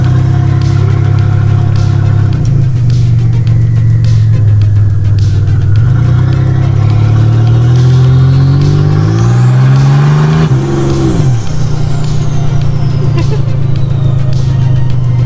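A Nissan 300ZX turbo engine running with no exhaust fitted, loud and close, its drone rising and falling as the turbo spools and then winds down with a fading whistle.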